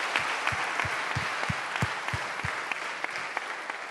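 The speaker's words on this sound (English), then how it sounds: "Give them a warm round of applause." An audience claps steadily in a sustained round of applause, dense and even, with no voices standing out.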